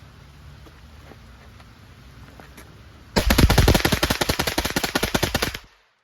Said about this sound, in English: I'm gonna dump out a whole mag and see what happens